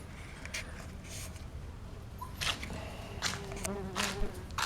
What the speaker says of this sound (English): Piss off, wasp.